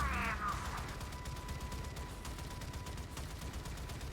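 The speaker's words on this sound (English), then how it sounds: "Oh, that's just a cannon battery." Cannon battery fire in the video game Warframe on a Railjack, a dense, steady barrage of rumbling blasts that continues throughout without pause.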